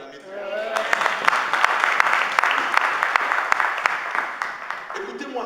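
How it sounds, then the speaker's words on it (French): Clapping crowd at a church service with a pastor, a dense steady patter of many hands filling the room, fairly loud and sustained, with a voice or two faintly underneath. "Est-ce qu'on peut l'acclamer?"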